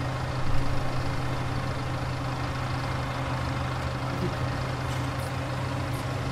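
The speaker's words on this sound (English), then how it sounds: "these tractors are a little loud actually" Constant low engine drone of heavy tractors rumbling steadily in the video game Farming Simulator 17, a dense mechanical hum with no pauses throughout.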